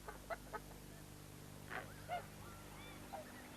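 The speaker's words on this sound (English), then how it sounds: "This is a Coscoroba swan, a South American bird." A Coscoroba swan, a South American waterfowl, gives a few short honking calls in quick pairs and then scattered single notes, faint and somewhat distant over a low steady background hum.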